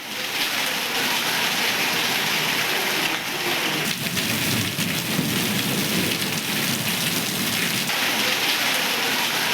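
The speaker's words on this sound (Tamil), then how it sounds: "திண்டுக்கல் நகரின் பல இடங்களில் மிதமான காற்றுடன் கூடிய மழை பெய்தது" Heavy rain pours steadily over Dindigul town streets with moderate wind, a dense continuous loud hiss of water throughout, with low rumbling suggestive of thunder beneath and no voices.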